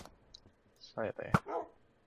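A few barks from a dog or wolf in the block game Minecraft, brief and moderately close among faint game clicks and voices, with people talking during a hardcore survival match.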